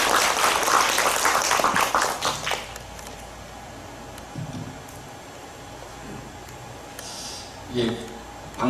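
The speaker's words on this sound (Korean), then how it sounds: "박수로 맞으시면 고맙겠습니다." Applause from a conference audience at a 2025 climate school-meals panel discussion in Gyeonggi. It is a dense burst of clapping for about the first three seconds, then fades to quiet room tone with faint stray sounds.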